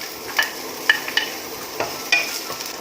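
Onion sizzles softly while it is stir-fried for crabs, with faint frying hiss and several light clinks and scrapes of a utensil in the pan, fairly quiet and close.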